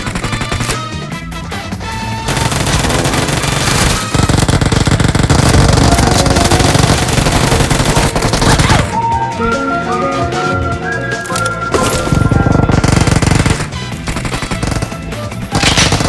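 Rapid bursts of automatic gunfire from the game PUBG, played on an iPhone XR, rattle loudly and densely over a layer of game music, with short breaks between the volleys and no talking.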